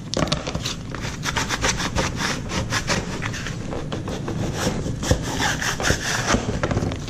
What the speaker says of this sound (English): Now I'm just going to take and use my squeegee and squeegee my vinyl down to the board.